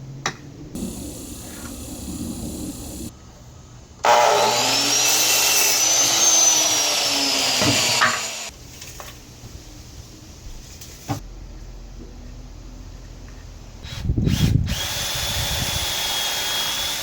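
A power drill bores through concrete block in several loud, close bursts of grinding whine, separated by quieter gaps and handling noise, with one more short burst near the end.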